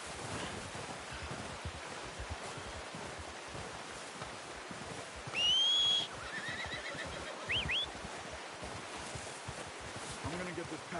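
A horse whinnies in Red Dead Redemption 2, a short high neigh rising over steady outdoor wind and surf-like ambience, followed by a briefer second call.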